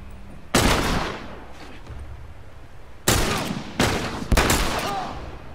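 Rifle gunfire in The Last of Us during a factory attack: four loud, close shots, each with a sharp crack and a decaying echo, spaced irregularly over a low game ambience.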